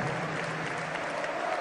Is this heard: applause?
yes